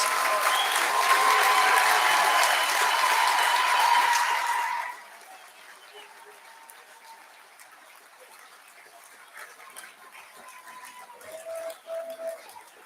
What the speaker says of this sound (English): why don't you give a big round of applause to everybody that supported you all the way through your studies?